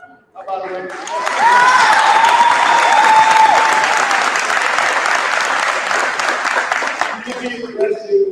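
A large audience breaks into loud, sustained applause at a commencement ceremony. The clapping swells within about a second, holds dense and even for several seconds, then thins out. A voice speaks briefly before the applause starts and again as it fades.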